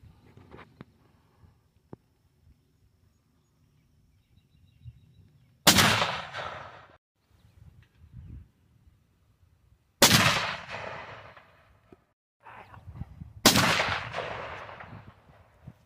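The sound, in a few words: gunshots from a .270 rifle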